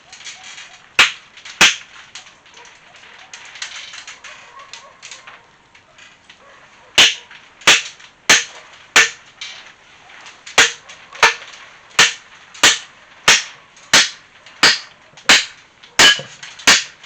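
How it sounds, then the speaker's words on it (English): A square wooden peg is driven through a die to round it for timber framing, with a run of sharp, loud hammer blows, sparse at first and then in a quick regular series near the end. "I'll drive a square one through there."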